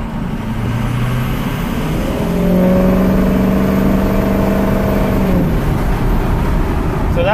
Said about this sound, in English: This will just be a little bit of throttle.